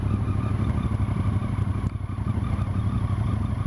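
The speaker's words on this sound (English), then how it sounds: "Oh, they have come all the way on their Korean bikes. Load of Harleys, as usual." Harley-Davidson motorcycles ridden by a group of Korean bikers rumble steadily up close, a loud continuous engine drone with a brief dip midway and no talk over it.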